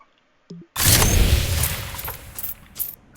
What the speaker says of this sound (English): I don't know where that gunfire is coming from